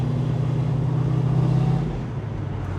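A 1969 Mustang Mach 1 with a 427 Side Oiler V8 and a four-speed manual rumbles steadily from the cabin, a deep even drone that dips slightly as the engine settles during a shift.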